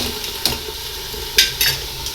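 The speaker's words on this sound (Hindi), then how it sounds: "जब तक आलू बैंगन फ्राई होता है" Potatoes and eggplant fry in a pan with a steady close sizzle and a few brief clicks and scrapes, with no talking.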